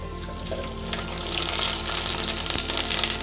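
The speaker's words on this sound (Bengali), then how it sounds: "আমি সব পাঁপড়গুলো এখন ভেজে নেব" Wheat flour papad deep-frying in hot oil, a quiet bubbling sizzle that swells into a louder, crackling fizz partway through.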